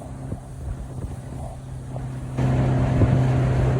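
A motorboat's engine drones steadily as the boat rides across water near Narayanghat, with wind buffeting the microphone; the hum swells noticeably louder partway through and holds there.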